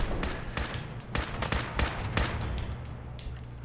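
Video-game combat with a rapid series of sharp gunshot-like bursts, some irregularly spaced and moderately loud, followed by a quieter stretch; an enemy fires a missile at the player.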